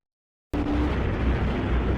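After half a second of silence, a sudden explosion caught on police camera bursts in with a heavy roar and deep rumble that keeps going.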